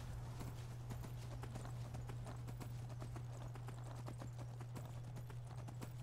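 Horse hooves clip-clop in a steady, even rhythm while riding in the video game Skyrim, a continuous moderate patter over a low steady hum, with no talk.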